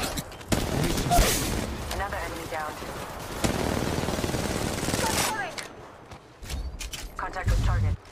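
Rapid gunfire rattles through a firefight in Apex Legends Mobile, with dense loud bursts that sit under frequent game voice lines and a player talking.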